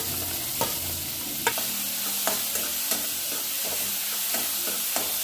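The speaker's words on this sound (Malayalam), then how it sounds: "വെളിച്ചെണ്ണ ചൂടായേ അതിലേക്ക് അരിഞ്ഞു വെച്ചിട്ടില്ലേ സവാള അത് ചേർത്ത് കൊടുക്കുക" Sliced onions hit hot coconut oil and are stirred in a pan. A continuous sizzle runs throughout, punctuated by regular, sharp scrapes and clacks of a utensil against the pan. No voices are heard.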